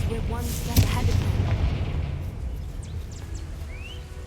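A Confringo spell blast in Hogwarts Legacy: one booming explosion that rumbles and fades over a few seconds, with a brief burst of speech near the start.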